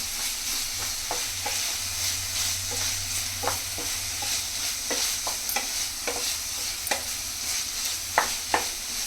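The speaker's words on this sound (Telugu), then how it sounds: "ఈ అల్లం వెల్లుల్లి పేస్ట్ కూడా ఈ పచ్చివాసన పోయేదాకా ఒక్క 1/2 minute ఇలా చేద్దాం" Ginger garlic paste fries in a pan for oats upma, with a steady sizzle and repeated scraping clicks of a spoon stirring at an uneven rhythm, close and fairly quiet.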